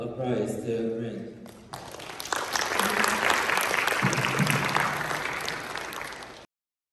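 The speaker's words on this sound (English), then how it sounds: "Please give another round of applause to Ren." Applause from the audience at a school presentation contest, starting after a brief stretch of voices and swelling into steady, dense clapping that carries on for several seconds before cutting off.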